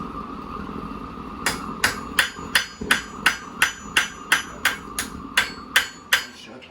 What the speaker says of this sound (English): You want that side, hammer that down, kind of even it out.